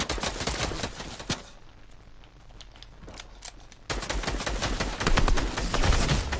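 Rapid automatic rifle fire in Fortnite, dense bursts of close gunshots that pause briefly mid-way and then resume loud and sustained.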